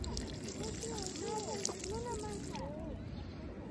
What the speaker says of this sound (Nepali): पानी खाने धारो